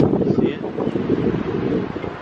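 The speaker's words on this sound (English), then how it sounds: "And it's pretty cold and windy." Cold wind buffets the microphone at Ocean Beach in San Francisco near the Cliff House on the Pacific shore, a steady loud low roar with gusty swells and no clear voices.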